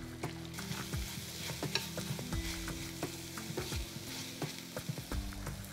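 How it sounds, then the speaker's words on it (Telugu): Green chili paste with ridge gourd fries in a pan, a continuous close sizzle layered with frequent scraping and tapping of a spoon as it is stirred, with no one talking. "కొంచెం పచ్చివాసన పోయే వరకు వేయించుకోవాలి."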